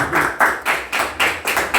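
A church congregation claps in unison as an offering of praise, about seven loud, evenly spaced claps in a quick steady rhythm with no talk over them.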